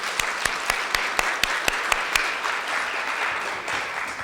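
Audience at a children's speech competition final applauding contestants, a steady wash of clapping with a few sharp louder claps standing out early on, moderately close and without talk.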